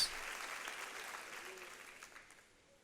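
Applause from a church congregation after a sermon, a steady wash of clapping that fades out over a few seconds, faint and somewhat distant.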